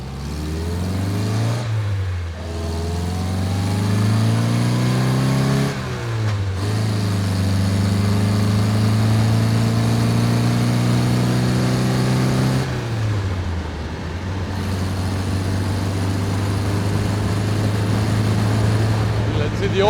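A 1964 Triumph TR4 with freshly adjusted timing runs loud and close on a test drive, its engine note climbing as it accelerates, then dropping with each gear change before pulling steadily again.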